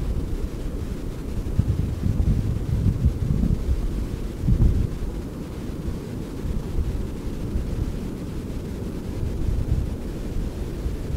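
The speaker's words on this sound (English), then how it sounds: "I want you to hear and listen to the ocean" Ocean surf rolls onto a beach in Costa Rica with strong wind buffeting the microphone, a continuous roaring wash of waves with a few swells rising above the steady rumble and no one talking.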